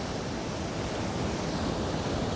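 Ocean waves rolling onto the California coastline, a steady broadband wash of surf with some wind noise, continuous and fairly loud with no voices.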